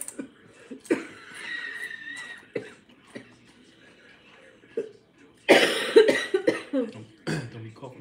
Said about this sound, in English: Don't be coughing up a hack.